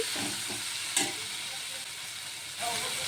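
Tomato and spices fry in a pan for a spiny gourd curry, giving a steady close sizzle and hiss throughout, with a few soft stirring scrapes near the start and a brief clink around the one-second mark.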